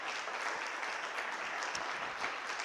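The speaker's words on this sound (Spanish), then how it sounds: "da una ofrenda de palmas al que vive y reina" A church congregation breaks into sustained, dense applause as an offering of praise during a worship service, steady and enveloping throughout without any speech.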